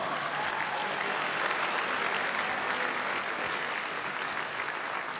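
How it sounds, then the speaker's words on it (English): Dense applause from a crowd honouring two fighters after a grappling match at a submission-grappling event, steady and even for the full length without any break. "Ladies and gentlemen, round of applause for our two warriors."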